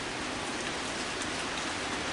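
Heavy rain pours down steadily during a storm with high winds, a dense, constant hiss of drops striking surfaces up close, with no voices over it.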